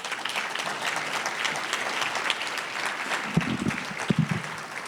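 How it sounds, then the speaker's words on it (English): Crowd applause breaks out at the Boston Public Schools valedictorians luncheon, sustained clapping from a room of guests with a few louder thumps and scattered cheers near the end. "That's applause."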